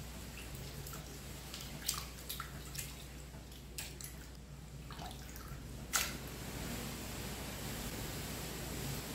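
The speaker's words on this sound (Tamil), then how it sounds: "ரெண்டு மூணு தண்ணி அலசிக்கிடணும்." Cleaned squid rinsed in a few changes of water, giving a steady wet wash with scattered close splashes and drips, including a sharper splash near the end.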